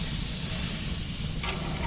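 Chuck steaks sizzle on a charcoal grill, a loud, steady hiss that holds briefly without any talk.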